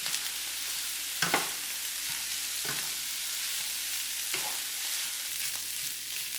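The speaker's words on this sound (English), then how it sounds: "Next, we're going to add 4 cups of white rice, jasmine rice. Stir everything all together." Jasmine rice being stirred into chicken and andouille sausage frying in a pan: a steady sizzle with several distinct scraping strokes of the spoon, close up and with no talking.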